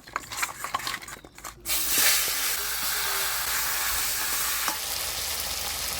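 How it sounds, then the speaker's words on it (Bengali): A fish head coated with turmeric and salt lands in hot oil, and a sudden loud sizzle erupts after some quieter handling noises, then settles into a sustained bubbling hiss. "এবার মাছের মুড়াটা আমি হলুদ লবণ দিয়ে মাখায় ভাজে নিই"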